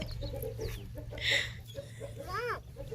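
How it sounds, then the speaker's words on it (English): A chicken clucks a few times over a steady low hum, with soft background chatter and a brief higher call near the end. "She's so scared of chicken."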